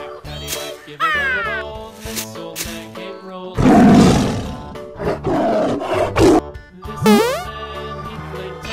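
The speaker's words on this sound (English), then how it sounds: "Yellow tiger." A yellow tiger roars loudly in a cartoonish way over upbeat children's music, with a long growling roar in the middle followed by shorter snarls.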